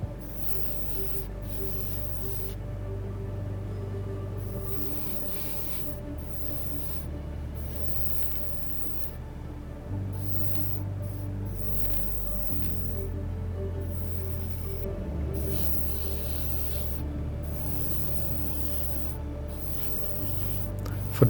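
Short bursts of aerosol spray paint on Tamiya Porsche 911 GT3 RS model kit parts, a steady hiss repeating at intervals over a low background hum, close and fairly quiet.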